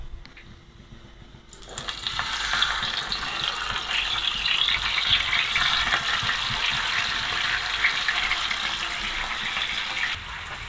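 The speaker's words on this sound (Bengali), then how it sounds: "এখন আমি এই মাছ 3টাকে একটু ভেজে নিব।" Foli fish pieces rubbed with turmeric and salt hit hot oil in a pan, bursting into a steady, close crackling sizzle that runs for several seconds before easing off near the end.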